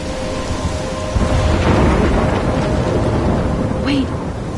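Heavy rain pours in a thunderstorm in the video game Life Is Strange, a loud steady hiss with rolling thunder rumbling beneath and a brief tonal sound near the end.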